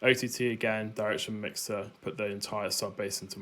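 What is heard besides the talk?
No everyday noises stand out.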